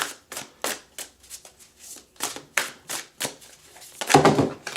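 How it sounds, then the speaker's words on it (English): Hands shuffling a Star Tarot deck, repeated crisp riffles and slides in quick bursts with short pauses between, close and fairly loud, ending with a louder clattering flurry. "First, we're going to shuffle."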